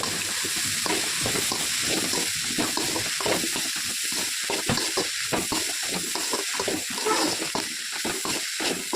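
Cabbage and capsicum with salt sauté in a pan for egg noodles, a constant close sizzle with rapid rhythmic stirring scrapes throughout and no speech.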